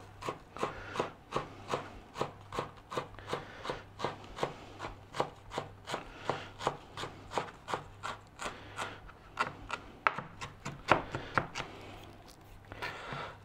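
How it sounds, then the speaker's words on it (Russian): Knife finely chopping dill on a board, a steady rhythm of about two crisp cuts per second, close and fairly quiet, without talk. "мелко нарезаю укроп."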